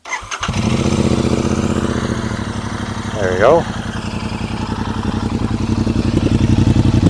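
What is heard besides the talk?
motorcycle engine revving, exhaust rumble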